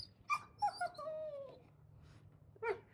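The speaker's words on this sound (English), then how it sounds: "Guys, I can't with this dog." A dog gives several high whimpering yips and a drawn-out whine in a home kitchen, close and fairly faint, with brief pauses between the cries.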